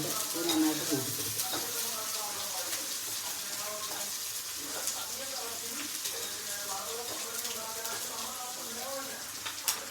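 Onions and green chillies stir-frying over high heat in a pan, a steady bright sizzle throughout, with occasional stirring scrapes and a voice speaking faintly underneath.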